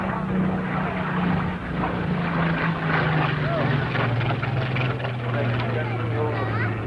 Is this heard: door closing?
no